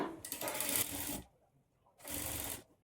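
A sewing machine stitching churidar pant fabric runs in two short bursts, a steady mechanical whir close by, with a pause in between.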